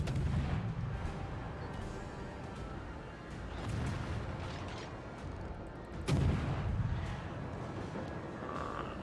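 Naval guns firing at coastal gun emplacements in a warship video game, a run of heavy booming shots with one sharp blast standing out, rolling over steady game noise and rumble.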